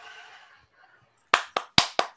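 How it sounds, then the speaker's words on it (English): A single person claps four times in quick succession, loud and close, after a stretch of quiet murmuring voice at a keynote talk. "I always just one person clap because that's all I need"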